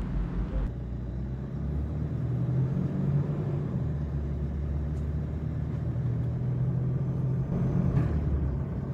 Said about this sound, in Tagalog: Yung naririnig ko daw, yung ABS daw yun, anti-lock braking system.